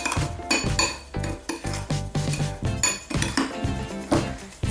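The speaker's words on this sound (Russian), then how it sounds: "Перемешиваем все хорошенько." Rapid clinking and scraping of a utensil against a bowl as lavender bath bomb ingredients are stirred, a busy irregular rhythm of close metallic taps with no talking.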